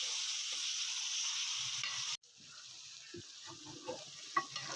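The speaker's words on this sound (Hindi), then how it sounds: "अच्छी तरह से भूनेंगे अदरक लहसुन के पेस्ट को" Ginger garlic paste with green chili frying in a pan for a Sindhi chicken dish, a steady loud sizzle that cuts out briefly midway, then resumes softer with light stirring scrapes.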